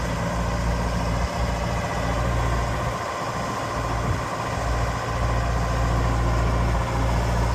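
Diesel engine of a 2006 Genie GTH-844 telehandler running steadily while the machine tilts, a loud, constant low rumble with a few faint mechanical thumps, no voices.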